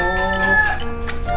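A chicken in a house full of animals gives a loud, close, drawn-out squawking call with strong harmonic tones, lasting about a second.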